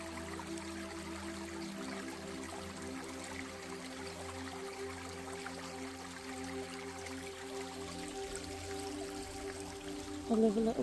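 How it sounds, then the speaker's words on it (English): A small bubbling brook near a healing well in North Wales, its soft continuous trickle and gurgle running steadily at low level beneath a faint tonal hum, with a brief louder splash at the end. "I love a little bubbling brook like this."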